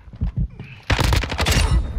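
Rapid gunfire erupts in a Call of Duty: Modern Warfare II firefight, a loud dense burst of shots following a few softer thumps, with a voice briefly heard beneath.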